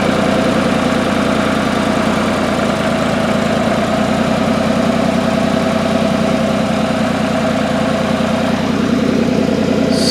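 A John Deere A tractor engine runs at a steady, loud idle with a continuous low throbbing chug, close by and unbroken, with no voices.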